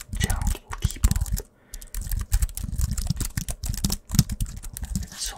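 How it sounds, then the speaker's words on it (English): Gentle typing on a computer keyboard for ASMR, a steady run of soft, close clicks and taps with a brief pause partway through and faint whispery breath beneath. "Keep on typing. Keep on typing. Typing. Typing. Gentle keyboard."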